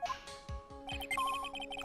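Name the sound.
metal detector signal beep in Phoenix Wright video game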